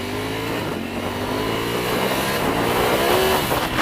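A 2018 Ducati V4S motorcycle in sport mode revs loudly and close, its engine note climbing steadily in pitch as the throttle opens, a rising roar with no speech over it.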